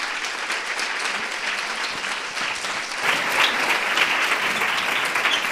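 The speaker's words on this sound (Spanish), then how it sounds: "Un aplauso." Sustained applause from an audience at a talk on affective-sexual education, steady dense clapping that swells a bit louder midway and continues without pause.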